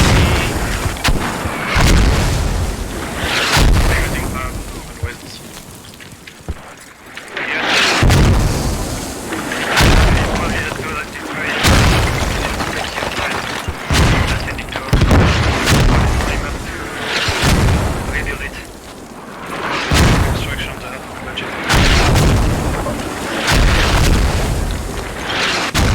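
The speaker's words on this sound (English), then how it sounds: "A lot of mortars going down." Mortar barrage explosions in Company of Heroes 2 boom repeatedly at a fairly regular pace, each heavy thud with a ringing tail, roughly a dozen over the stretch, with a voice talking at times beneath them.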